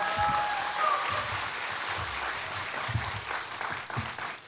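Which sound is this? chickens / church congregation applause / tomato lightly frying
church congregation applause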